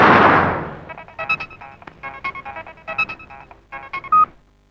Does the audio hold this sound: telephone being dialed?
yes